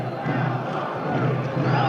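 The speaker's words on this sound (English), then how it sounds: "This is a big one, and the crowd is reacting to it." A basketball arena crowd at Vanderbilt at Kentucky roars and shouts in reaction to a big play, a dense sustained swell of voices heard over a radio broadcast.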